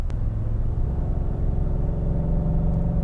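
A gas truck engine labors uphill under load with a steady, deep rumbling drone, pitch slowly climbing as it accelerates, heard from inside the cab.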